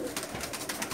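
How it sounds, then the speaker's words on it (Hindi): Pigeons coo in a breeder's loft crowded with many birds, a steady murmur of soft, overlapping calls with brief louder pulses, close and continuous throughout. "आप जिस तरफ देखेंगे कबूतर ही कबूतर आपको नजर आएंगे।"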